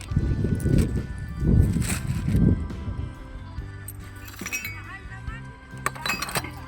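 Small shot glasses clink together at a busy second-hand market in Jeddah. Several light, bright glassy taps come after loud handling and rustling, while a voice talks over them.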